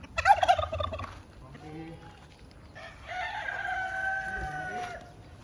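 A turkey gobbles in a quick rattling burst, then after a short pause gives a longer wavering call, close by and fairly quiet, with faint farmyard noise in between.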